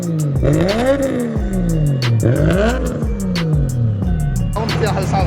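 A car engine fitted with a new turbo and new fuel rail revs up and falls back repeatedly, each rise and drop close and loud, with rhythmic clatter alongside and people talking over it.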